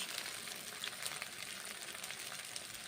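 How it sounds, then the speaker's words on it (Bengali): Tiffin snacks fry in a pan with coriander paste, giving off a continuous close sizzle and crackle with small popping bursts. "একটা করে উল্টে নিচ্ছি ভেজে নিচ্ছি"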